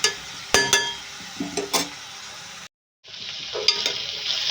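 Broad beans and onions fried in a pan, a close steady sizzle with spatula scrapes and clinks against the pan, briefly cut to silence before the frying noise resumes, no speech.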